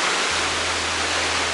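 Steady broadband rush of the waterfall at Aconco, Tetela de Ocampo, Puebla, heard near its base, a continuous dense roar with no voices, even in level throughout.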